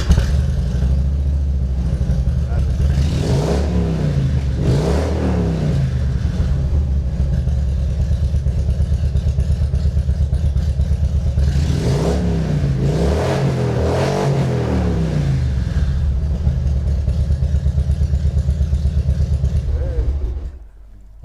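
A classic car engine at a concours d'elegance show revs hard in repeated rising and falling bursts, loud and close, with steady idling between the revs over about twenty seconds.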